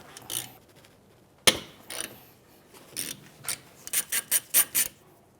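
Metallic ratcheting and loosening of the two 12mm brake caliper bolts on the rear brakes of a 2011-2017 Honda Odyssey, close-up, with a sharp clank followed by a run of quick rhythmic ratchet clicks.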